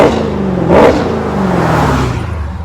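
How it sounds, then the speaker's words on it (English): A Dodge Hellcat's 707 hp V8 exhaust revs hard close by, a loud throaty blip rising then falling back to a rumbling idle with slight clatter. "That's a clean exhaust note, guys."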